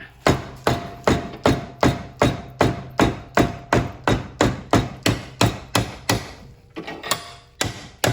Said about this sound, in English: then you can use the rubber mallet